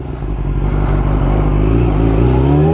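A Yamaha R6 5EB motorcycle with a gear-shifting problem pulls away in first gear, its engine note loud and close, climbing steadily in pitch as it revs up without a break.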